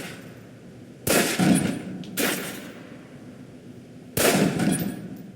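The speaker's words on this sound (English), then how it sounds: "Equip the pistol, then aim down range and take some shots at the target." Three sharp pistol shots at a firing-range target in the spy game Alpha Protocol, each a loud crack with a short decaying tail, spaced about a second or two apart against a quiet background.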